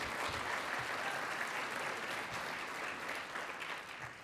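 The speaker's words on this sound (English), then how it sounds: "Come on, a round of applause for our library." Audience applause at a city's state-of-the-city address, steady and dense clapping from a large crowd that holds for several seconds, with no speech over it.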